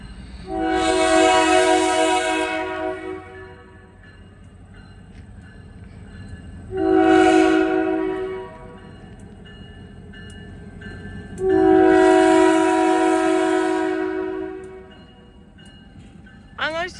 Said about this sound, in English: Look at that big train.